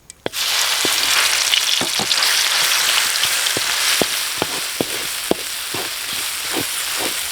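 Curry-powder seasoning and duck hit hot oil in a pot with a sudden loud sizzle that settles into steady frying, punctuated by regular clicks and taps of stirring, close up.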